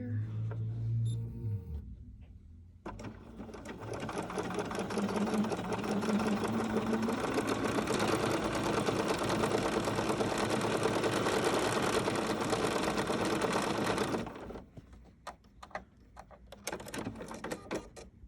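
BERNINA sewing machine with a dual feed foot fitted, quilting stitch in a long steady run of rapid mechanical whirring, near and loud, starting abruptly and stopping, with brief quiet handling before and after.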